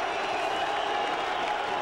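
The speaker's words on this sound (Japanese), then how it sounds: "こちらはブーイングと歓声が入り混じっています" A packed Las Vegas boxing arena crowd roars during fighter introductions for the Naseem Hamed vs. Marco Antonio Barrera IBO featherweight title bout. Dense, steady, loud crowd noise of mixed boos and cheers fills the whole stretch without letup.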